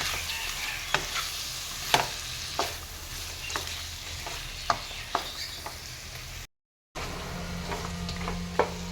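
Coriander and cumin powder fry in oil with a low, constant sizzle, punctuated by sharp, regular taps and scrapes of a spoon stirring against the pan, heard close and without any voices.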